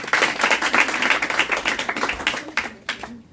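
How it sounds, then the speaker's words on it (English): A crowd claps steadily in dense applause that fades out toward the end, with a few final scattered claps. "Let's give him a round of applause."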